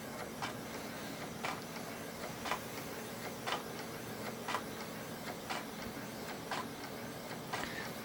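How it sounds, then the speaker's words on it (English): Built-in thermal printer of an HP85 computer printing a cardioid plot, producing a steady mechanical whir with regular clicking ticks about once per second, close and moderately quiet, with no talk. "the little cardioid comes out of the printer."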